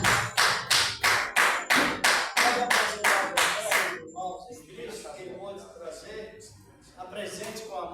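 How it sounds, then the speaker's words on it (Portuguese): A church congregation claps in unison during the offering, loud, sharp, evenly spaced hand claps about twice a second that stop partway through, followed by murmuring voices and scattered softer sounds. "as palmas que exaltam ele agora"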